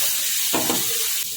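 Potatoes hit a hot pan already holding tomatoes, green chilli, garlic chutney and ginger paste, setting off a sudden burst of sizzling and stirring that hisses steadily and close for about a second.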